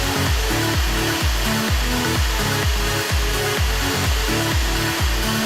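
A loud, steady blowing roar of a heat gun at 600 degrees, with a pulsing mechanical hum repeating rhythmically underneath.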